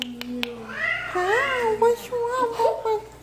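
A house cat that limps lets out a few plaintive, wavering meows at close range, fairly soft and lasting a couple of seconds, with faint background noise.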